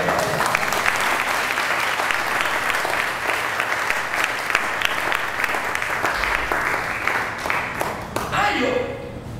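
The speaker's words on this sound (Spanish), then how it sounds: "¿Cuántos pueden dar un aplauso al Señor?" A church congregation applauds steadily and loudly for about eight seconds before the clapping fades out near the end.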